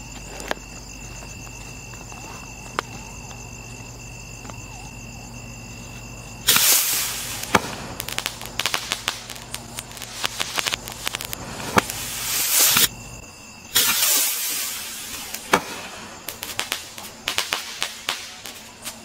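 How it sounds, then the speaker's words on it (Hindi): A chatar patar Diwali firework rocket crackles and pops in loud, rapid bursts that come in two long waves, with scattered sharp cracks between them and a steady insect-like chirp underneath. "चटर पटर वाला रॉकेट किस तरीके से जलता है।"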